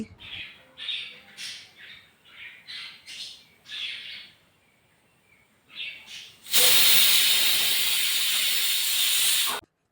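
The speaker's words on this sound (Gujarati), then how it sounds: "તો ત્યાં મૂકી દીધી મેં મઠની દાળ બાફવા માટે" Moth bean dal boiling in a pressure cooker ends in a loud, sustained steam hiss lasting about three seconds. Before it, repeated bird-like squawks and chirps sound nearby.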